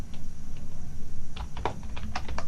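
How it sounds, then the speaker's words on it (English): Fingers typing on a computer keyboard close up, a quick run of light clicky keystrokes that grows busier toward the end, over a soft steady background hum. "And I'm going to type in Moss"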